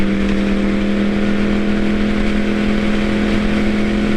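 A 2012 Yamaha R1 motorcycle under steady throttle gives a loud, smooth, continuous engine drone with a strong steady tone, heard close and without talk, pulling evenly with no gear changes.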